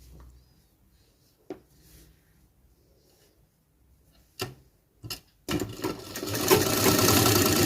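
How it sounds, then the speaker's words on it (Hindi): A tailor's sewing machine stitching over a garment pocket starts with a few sharp clicks and taps, then runs in a steady whirring burst toward the end, close and fairly quiet. "अब हम पॉकेट के ऊपर सिलाई मार लेंगे।"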